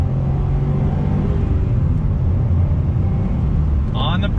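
2020 Honda Civic Type R accelerating back on throttle, a loud, steady engine rumble building close up, with a person talking over it.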